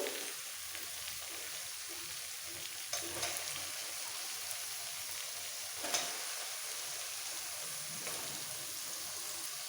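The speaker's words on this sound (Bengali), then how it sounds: "ম্যারিনেট করা মাংসটা দিয়ে দিচ্ছি মটন" Marinated mutton sizzles as it goes into a pan of fried spices for a Bengali mutton curry with potatoes, a steady broad frying hiss with a few louder spatters and stirring scrapes, close and without speech.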